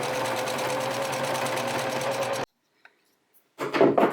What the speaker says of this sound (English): I just go straight to the sewing machine and I will secure it over here